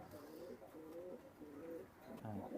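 A Teddy breed pigeon coos softly in a few low, rolling throaty phrases, faint and close, with no one talking over it.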